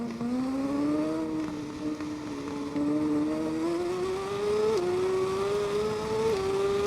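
Supersport motorcycle engine in TT Isle of Man 2 held flat out on a road course, a loud, continuous high-revving whine that climbs steadily with a couple of brief gear-shift dips, alone without speech.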